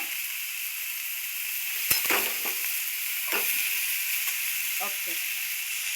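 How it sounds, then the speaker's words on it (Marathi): Cluster beans (guar) fry in spicy masala in a pan, a soft continuous sizzle and hiss broken by a few sharper crackles and stirring scrapes, close and fairly quiet, with no voices. "असं मसाल्यात मस्त असं भाजायचं बघा गवार सुद्धा."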